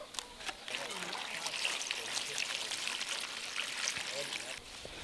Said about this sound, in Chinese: 现在我要把这个花先洗一下